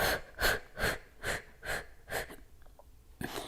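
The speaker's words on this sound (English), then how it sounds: "Bend the knees here and reach forward and exhale through the mouth." A yoga class leads forward bends with bent knees, and breath is pushed out through the mouth in six near, rhythmic exhales about every half second, each a loud breathy whoosh, with no talking.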